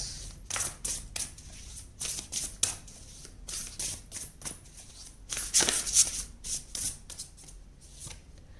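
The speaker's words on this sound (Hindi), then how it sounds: "फ्यूचर के लिए हम 3 कार्ड्स निकालेंगे।" Tarot cards being shuffled and drawn, a run of quick papery flicks and riffles, close and fairly quiet, with a denser burst of shuffling partway through.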